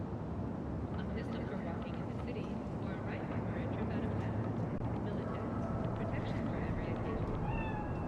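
A cat meows in a quiet nighttime scene in the video game Cyberpunk 2077, a few faint calls set against steady ambient hum, with voices talking nearby.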